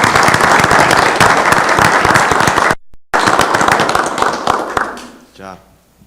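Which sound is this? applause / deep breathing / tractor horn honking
applause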